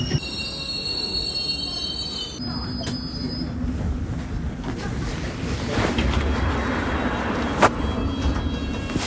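A London Underground train on the Circle Line pulls into Liverpool Street station with a loud rumble, high wheel squeals and a rushing roar, followed by hissing brakes and clatter.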